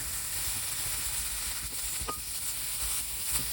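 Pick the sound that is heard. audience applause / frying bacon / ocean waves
frying bacon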